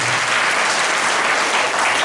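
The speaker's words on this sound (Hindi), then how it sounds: "फिर से ताली के लिए" Loud, dense applause from a church congregation during a Hindi-language sermon, continuous and close throughout the short stretch.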